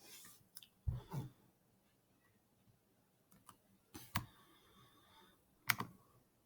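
Keys on a computer keyboard click in scattered, uneven clusters, some sharp and distinct, others soft taps, separated by quiet gaps in a hushed room.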